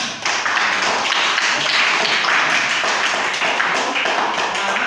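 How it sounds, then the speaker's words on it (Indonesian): A sixth-grade class bursts into dense, steady clapping that holds for several seconds, close and loud, with no break in the sound. "Kita kasih aplaus untuk semuanya"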